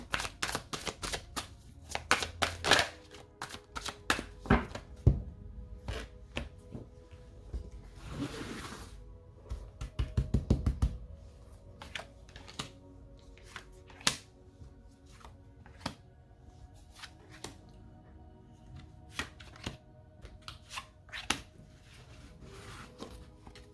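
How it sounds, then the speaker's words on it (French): Tarot cards are laid out one by one on a surface in a quiet room, making sharp, soft snaps and taps at an irregular pace, with a brief shuffling rustle partway through. "On va mettre les cartes pour l'autre personne."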